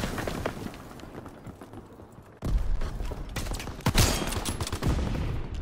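Battlefield gunfire in the video game WAR, M1903 sniper rifle among the weapons, with scattered shots and a thick barrage that comes on suddenly midway and stays dense, loud and close.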